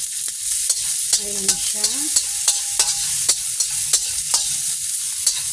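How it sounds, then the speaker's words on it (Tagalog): Garlic and onion sizzle steadily while sautéing in a pan for beef caldereta, with a utensil scraping and tapping the pan at a regular rhythm and a brief spoken remark over the frying. "Gisa natin ng bawang sibuyas."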